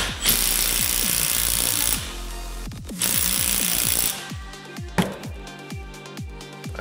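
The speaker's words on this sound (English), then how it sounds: "That's probably the full thing of this tool, which is 210 foot-pounds of torque." A power tool hammers a fastener tight at its full 210 foot-pounds of torque, sounding as loud rattling bursts in two long runs followed by shorter repeated impacts, with no talk.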